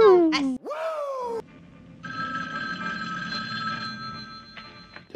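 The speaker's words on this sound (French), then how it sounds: "Le téléphone est tellement bruyant." A telephone rings loudly indoors with bright, warbling electronic bell tones, then a sustained buzzing ringtone carries on at a lower level, with a brief voice near the start.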